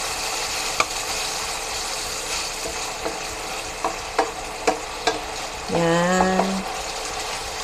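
Chicken liver sautéing in a hot pan, a steady sizzle with a spatula clacking against the pan several times, and a brief voice speaking partway through.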